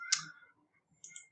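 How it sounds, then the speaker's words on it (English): Keys clicking on a computer keyboard during an online marketing walkthrough, a short burst of crisp taps followed by a pause and a second brief cluster, close and fairly quiet. "you're going to be typing this person's name"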